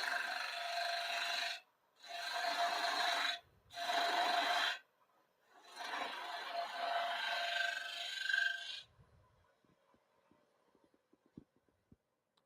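A woodturning gouge cuts a three-corner wooden bowl spinning on a lathe, making four close, loud rasping scrapes with short pauses between, the last one longest, then fading to light clicks and near silence.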